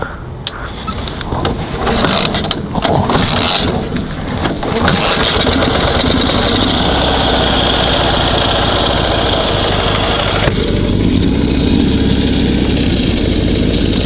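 A Ural (Dnepr) motorcycle engine with a sticking throttle starts in neutral after a few rough bursts, then settles into a steady, loud, close idle.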